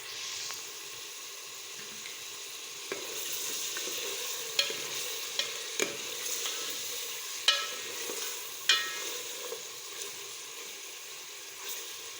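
Chicken frying in a pan with a steady sizzle and occasional sharp crackles and spatula stirs, close and moderately quiet, with no talking.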